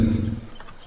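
A single short, deep dinosaur roar from the Roblox game Dinosaur Simulator, loud and close, fading quickly.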